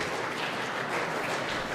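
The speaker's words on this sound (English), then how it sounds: "Now I note that the applause was rather muted compared to the usual case." Applause ripples through SpaceX mission control after stage separation during a Starlink launch, a faint, muted but continuous patter of clapping across the whole stretch.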